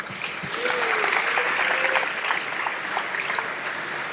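Audience applause at a Boys State closing ceremony, a dense, steady wash of clapping from a large crowd that swells quickly and holds for about four seconds, with faint voices and whoops mixed in.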